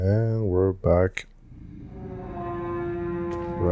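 A long, steady horn-like honk in the video game Crow Country, held for over two seconds after a person speaks briefly, loud and close.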